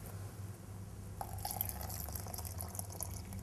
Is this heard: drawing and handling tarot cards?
no